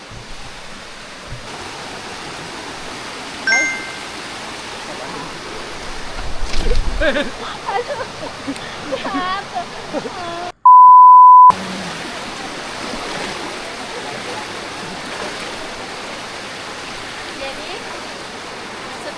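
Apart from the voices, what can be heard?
river stream flowing on trek to waterfall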